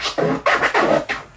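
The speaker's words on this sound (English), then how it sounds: "an even 2-click orbit, which sounds like this." Turntable scratching in an even two-click orbit: a few quick, evenly spaced back-and-forth scratch strokes, close and alone, lasting barely over a second.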